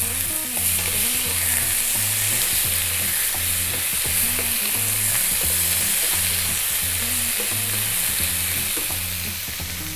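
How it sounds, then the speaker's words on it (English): Garlic ginger paste fries in a pan with a steady, loud sizzle and hiss, stirred now and then, over a repeating musical backing throughout. "We're now going to add the garlic ginger paste, 1 tablespoon of that, which is a 50-50 mix of garlic and ginger."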